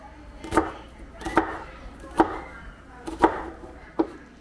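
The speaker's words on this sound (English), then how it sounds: "chopping up the onions" A knife chops through onion on a board in five sharp, evenly spaced strokes, close and clear with no talking.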